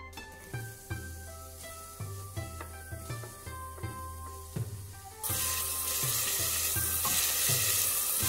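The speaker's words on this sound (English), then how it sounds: "First, I will fry the onions." Onions hit a hot pan and burst into a loud, steady sizzle after about five seconds of plucked background music, the hiss continuing to the end.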